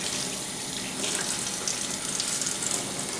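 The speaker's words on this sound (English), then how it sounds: "we're squeezing that dirty water out" Dirty water squeezed out of wet makeup brushes, a close, continuous splashing and trickling of water over a few seconds.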